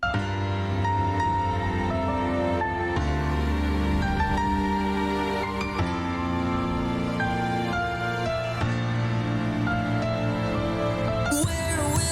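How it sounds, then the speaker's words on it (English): Full, layered orchestral music from a remix, with sustained strings and rich low harmony, plays continuously, dense and loud throughout with no voices. "the orchestral sound sounds like this"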